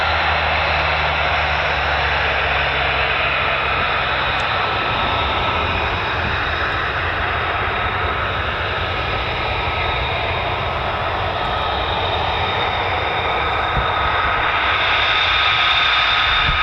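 Military jet aircraft returning to land at RAF Lakenheath on a foggy day, a loud, continuous roaring engine rumble that holds steady throughout with no talk.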